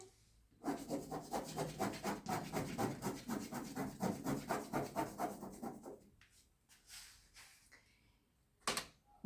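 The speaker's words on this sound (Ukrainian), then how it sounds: "а ще треба зафарбувати огірок у зелений колір" A child's crayon or marker colouring a cucumber drawing green, heard as rapid rhythmic rubbing strokes on paper for about five seconds, close and fairly loud, then a few sparse scratches and a brief knock.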